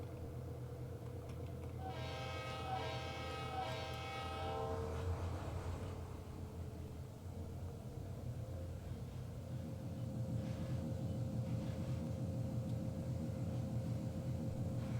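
A GP38-2 diesel locomotive's engine rumbles steadily throughout, with a loud harmonic horn blast sounding for about three seconds early on, and the engine's drone growing slightly louder toward the end.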